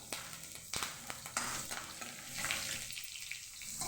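Tadka of spices frying in hot oil in a kadai gives a soft, continuous sizzle, broken by a few sharp clinks and scrapes of stirring, quiet and close with no talking.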